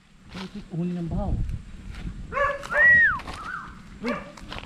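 A dog in a forest barks and whimpers with yipping, whiny calls at close range, mixed with voices talking over a rustling background.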